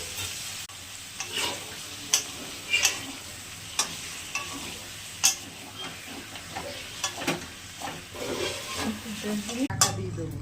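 Fish being fried in a pan of cooked-down spiced masala with turmeric, with a steady sizzle broken by repeated scraping and stirring clicks from a utensil, and a brief louder clatter near the end.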